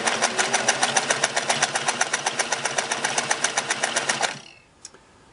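A Singer 401A sewing machine runs a two-needle, four-thread stitch at about 20 stitches per inch, a fast, even mechanical chatter of rapid regular beats close up, then it stops abruptly and leaves a near-silent tail with one small click.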